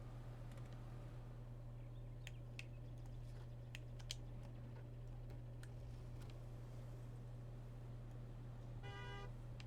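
A truck horn in SnowRunner gives one short toot right at the end, after a long steady low engine drone with faint scattered clicks.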